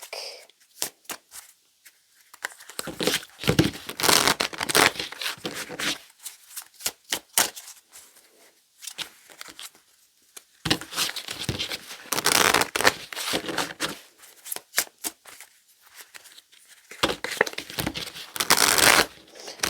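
Tarot cards are shuffled in quick crisp riffles and flutters, several bursts separated by short pauses, close and alone.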